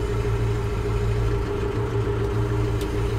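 A tractor fitted with bale spears and a joystick-controlled loader idles steadily close by, its low, even engine rumble holding constant with no talk.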